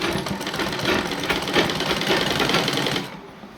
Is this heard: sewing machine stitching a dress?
yes